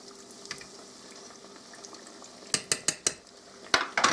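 Cake donuts frying in oil as they are flipped, with a soft bubbling bed broken by several sharp metallic clinks of a utensil against the pot, close and clear.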